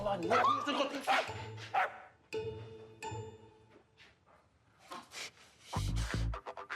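A nearby dog barks and yips in a short burst while people talk close by.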